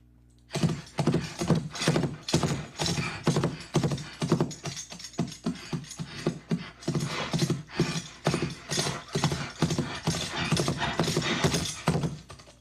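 Film foley playback of a horse with a bridle: a steady, close, rhythmic clip-clop of hooves continues almost without a break, with jingling tack mixed in.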